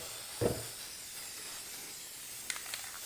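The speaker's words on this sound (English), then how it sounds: "I'm going to spray in some adhesive and just lay the stuff in" A short, sharp hiss of aerosol spray adhesive, followed a couple of seconds later by a few faint, brief spurts against quiet background.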